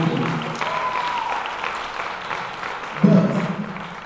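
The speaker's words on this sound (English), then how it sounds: "we can clap and applaud" Audience applause at a Head Start community showcase rolls on steadily, fairly close and loud, with a brief louder burst near the end and talk over it.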